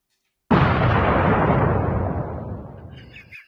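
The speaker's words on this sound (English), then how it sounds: "who doesn't want to see a pumpkin versus an AK-47" An AK-47 rifle shot blasting into a pumpkin: one sudden loud boom after a moment of silence, followed by a long decaying rumble that fades out over about three seconds.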